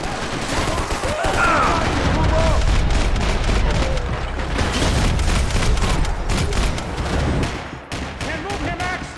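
A Max Payne 3 firefight with dense, continuous gunfire and booming impacts, loud and close throughout, while shouting voices cut in over the shooting.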